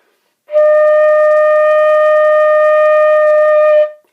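A flute holds a single D, a clear steady tone lasting about three seconds with a clean start and a soft fade at the end, loud and alone.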